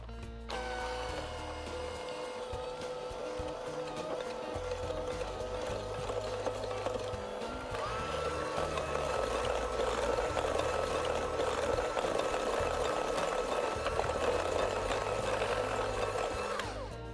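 An electric hand mixer whirs steadily while beating cookie dough for masala snickerdoodles, a faint continuous motor hum with a rattling texture that grows a little louder partway through.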